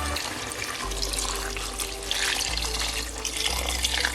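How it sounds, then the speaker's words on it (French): Water running from a tap into a cooking pan of onions, apricots and raisins being prepared for couscous, a steady close splashing stream with a low background hum and no talk. "je vais rajouter un petit peu d'eau"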